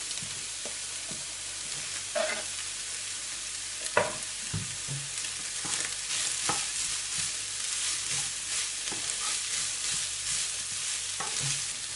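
Peppers sizzle steadily as they sauté in a hot pan, with scattered scraping and clacking of a utensil stirring them, close and continuous throughout.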